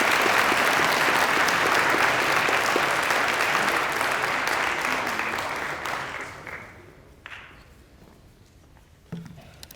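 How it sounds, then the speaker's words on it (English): An audience at a school recognition-day ceremony gives a round of applause, dense steady clapping that tapers off and fades to scattered claps and quiet. "Please join us in giving the Respect Board a round of applause."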